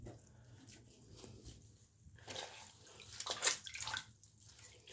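Hot water trickles and splashes faintly as a towel is soaked for scalding the face before a shave, with soft, irregular pouring and dripping that swells briefly midway.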